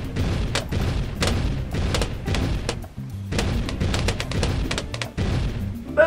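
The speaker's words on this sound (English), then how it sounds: "They don't call it the boom tower cannon for nothing." A bomb tower cannon in a Flash video game sets off a rapid string of loud, close explosive booms and bursts that run almost continuously for six seconds, with no talking.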